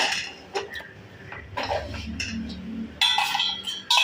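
Fried dried fish is moved into a dish with a utensil, giving a few sharp clinks and scrapes of metal on crockery, close and sparse with quiet gaps between them.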